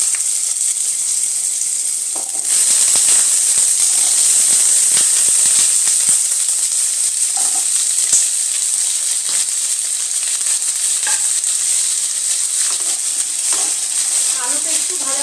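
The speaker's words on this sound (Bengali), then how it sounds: "আলুটা একটু ভাজা ভাজা হবে" Potato pieces fry with dried red chillies in a hot pan, a loud, sustained sizzle that jumps up as they go in and carries on evenly, broken by occasional soft scrapes of stirring.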